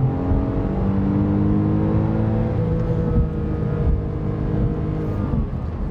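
Porsche Cayman S engine revving and pulling hard while driving, a steady loud droning growl with rising harmonic whine throughout, close and continuous with no talking.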